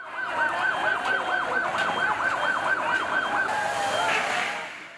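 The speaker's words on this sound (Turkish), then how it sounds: "Ambulansların biri gitti, diğeri geldi." Ambulance sirens after a car bomb attack in Azez, Syria, one loud, close siren wailing up and down in a steady, repeating cycle over low street noise.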